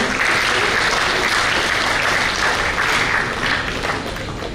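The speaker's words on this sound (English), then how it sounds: "A big round of applause for Mr. Ravichandran." Steady, full audience applause at a talk on the Indian economy, dense clapping from many hands that holds evenly and eases slightly at the end, with no talk over it.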